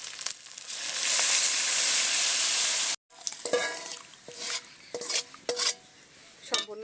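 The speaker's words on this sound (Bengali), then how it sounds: "এবার আমি এখানে সেদ্ধ করে রাখা ডাল আর মোচাটা দিয়ে দেবো।" Boiled lentils and banana blossom drop into spices frying in a pan, giving a loud, steady sizzle that cuts off abruptly, then scattered clinks and scrapes of stirring with rising bursts of frying.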